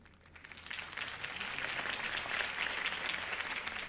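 An audience breaks into sustained applause after a political campaign speech, the clapping rising quickly from a quiet start and holding as a dense, steady wash for several seconds.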